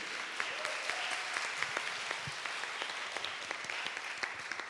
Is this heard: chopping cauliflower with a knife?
no